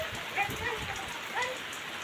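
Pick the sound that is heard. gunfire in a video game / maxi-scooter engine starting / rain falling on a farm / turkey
rain falling on a farm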